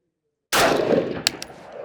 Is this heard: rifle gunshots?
yes